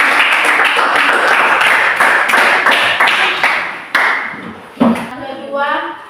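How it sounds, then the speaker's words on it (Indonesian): Students in a Catholic religious education classroom applaud the second group as it comes forward to present. The dense clapping runs steadily for about four seconds, then thins out and fades as a voice begins speaking. "tepuk tangan untuk kelompok kedua"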